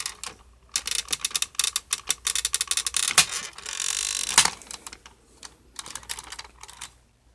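A Power Rangers Mystic Force Manticore Megazord toy being transformed by hand gives off loud, close bursts of plastic clicking and ratcheting, irregular and rapid, with brief pauses between moves.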